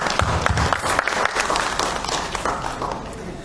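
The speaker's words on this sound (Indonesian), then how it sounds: "Mungkin kita boleh tepuk tangan untuk kita semua" Audience applause at a notaries' members meeting in Tangerang, a dense wash of clapping sustained at moderate level throughout, with some voices mixed in.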